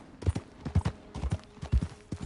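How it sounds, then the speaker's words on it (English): Horse hooves clip-clop in steady, fairly close bursts on a road in the video game Red Dead Redemption 2, with a faint voice briefly underneath. "That's a fine horse you got there."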